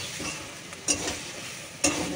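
Leafy greens being stirred and fried in a pan, a soft steady sizzle running throughout with two sharper clinks of a utensil against the pan, close by and moderately quiet, with no talking.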